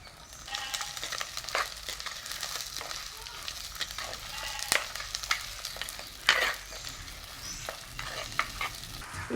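Onions, fenugreek, garlic and green chili frying in sesame oil, a steady close sizzle broken by stirring scrapes and clinks against the pan, with a few faint words of talk.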